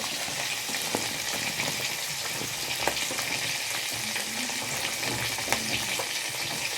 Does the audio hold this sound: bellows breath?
no